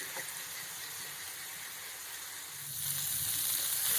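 Chicken pieces fry in hot oil in a pan until golden, giving a steady bright sizzle and hiss that swells louder toward the end.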